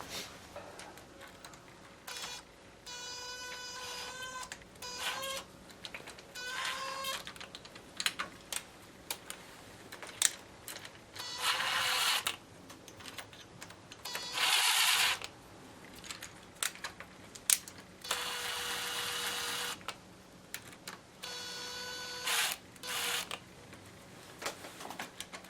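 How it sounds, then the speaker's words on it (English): Wrench working camshaft bolts on a Mercedes-Benz M104 engine in a W202 C280 during head gasket reassembly, giving irregular metallic clicks and ratcheting bursts close by with short pauses between them. "Now I might just start with my wrenchy."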